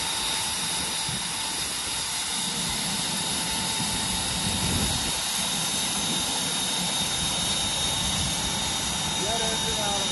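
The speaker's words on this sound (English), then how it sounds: "Jet engine out of the helicopter." A helicopter jet engine, throttled back and mounted on a Cub Cadet at an antique engine show, drones with a continuous high-pitched turbine whine and roar, loud and close, with voices faintly audible underneath.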